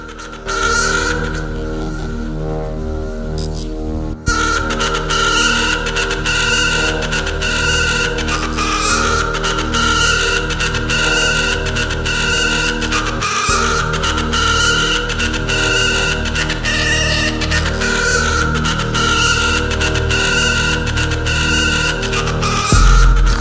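Yamaha WR250R motorcycle engine running loud and close, holding a steady high rev with a short dip near the start, then droning on through repeated rises and falls in pitch.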